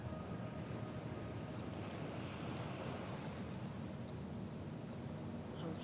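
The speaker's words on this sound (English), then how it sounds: "The waves were so loud I couldn't hear you for a second." Loud, steady roar of ocean waves and surf on a windswept shore in the video game Paranormasight, a continuous wash with no breaks and no voices.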